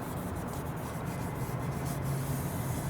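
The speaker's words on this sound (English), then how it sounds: "You need to wipe off this plastic panel" A plastic window switch panel in a 2024-2025 Toyota Tacoma being wiped with isopropyl alcohol, a steady close rubbing and swishing friction sound without pause.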